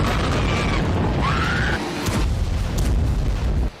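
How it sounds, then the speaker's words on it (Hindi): Shelling explosions from an Iran–Israel news report form a loud, continuous rumbling roar with sustained booming low end and whistling tones over it, heard without speech. "आग उगलते गोलों ने राजधानी तेल अवीव को ध्वस्त करने की कोशिश की"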